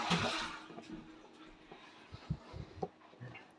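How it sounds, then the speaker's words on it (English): A household toilet flushes at a distance, a rushing gurgle that fades and is then joined by scattered knocks and bumps. "Please go and flush your toilet."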